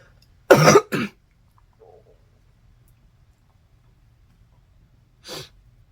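Two quick, harsh coughs close together, then quiet with a faint chirp, and one more short cough a few seconds later.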